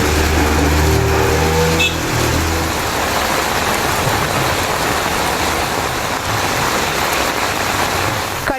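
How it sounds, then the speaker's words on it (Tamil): Heavy rain pouring down in Kurinjipadi, Cuddalore district, a dense, loud, continuous hiss and roar, with a passing vehicle engine audible near the start. "கடலூர் மாவட்டம் குறிஞ்சிப்பாடி மற்றும் அதன் சுற்றுவட்டார பகுதிகளில் கனமழை கொட்டி தீர்த்தது."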